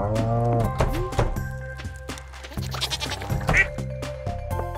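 A goat in the farming game Stardew Valley gives several loud, wavering bleats up close, repeated in quick succession over quiet game background sounds.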